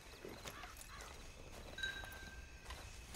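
Horse hooves clip-clopping at a walk in the Red Dead Redemption 2 video game, a faint, steady rhythm of soft steps under quiet ambient sound.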